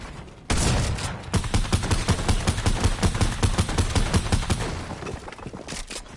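Video game machine gun fire erupts after a brief lull, a loud sustained rapid burst of shots lasting several seconds with no talking.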